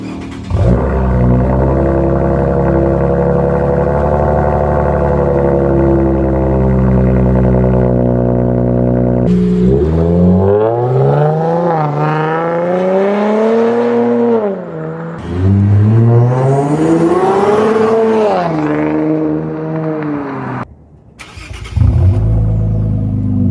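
A Nissan/Infiniti VR30 engine idles steadily, then revs up repeatedly with rising and falling pitch, a loud, close exhaust roar with some rasp through a single-resonator exhaust, cutting off briefly near the end.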